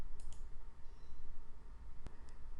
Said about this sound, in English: we click on the Finish button